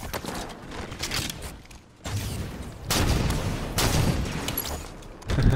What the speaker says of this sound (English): Watch out for rockets.